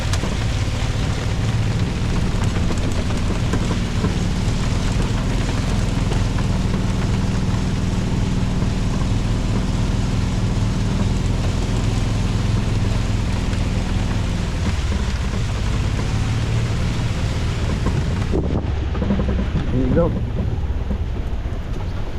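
Rain pours down outdoors in a heavy, continuous wash of noise with wind buffeting the microphone, easing slightly near the end as a few clunks sound nearby.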